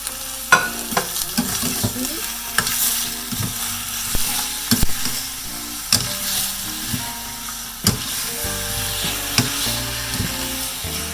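Pork pieces caramelizing in a saucepan of caramel, with a steady sizzle under repeated stirring scrapes and sharp utensil knocks against the pan.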